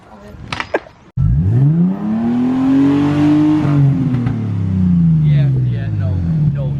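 A Nissan 350Z with an exhaust leak starts with a sharp catch, then its engine revs up and holds before easing down, a loud, close, raspy rumble with a rising and falling tone, while a voice talks briefly at the start.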